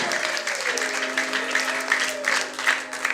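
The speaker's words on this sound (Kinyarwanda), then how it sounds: "Komera Imana amashyi." A church congregation claps during a sermon, a dense, steady wash of many hands beating at close range, with a sustained voice or musical tone running underneath.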